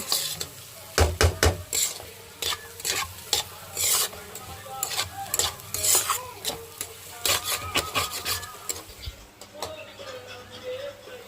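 Carrot and egg frying in a pan while being stirred with repeated scraping strokes over a steady close sizzle, loud and irregular, with no talking.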